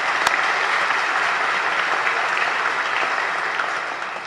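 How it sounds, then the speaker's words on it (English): A crowd claps steadily in sustained applause, dense and even, tapering slightly toward the end. "Give her a round of applause too."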